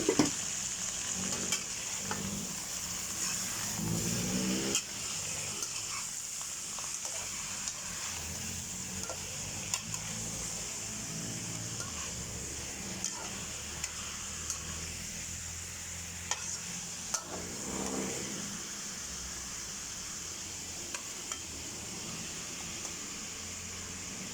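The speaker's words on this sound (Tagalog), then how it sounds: "Tagal-tagalin natin ang gisa." Steady frying sizzle from a pan sautéing aromatics for sinigang na durado, continuous and close, with occasional stirring scrapes and clinks across the stretch.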